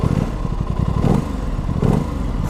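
A 2021 Aprilia RS660 sport motorcycle engine fires up and settles into a steady, lumpy idle, close and fairly loud, with mechanical clatter and no talking.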